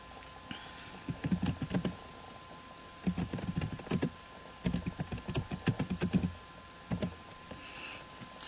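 Typing a command on a computer keyboard: close, quiet clusters of rapid key clicks in short bursts separated by pauses, with no talk.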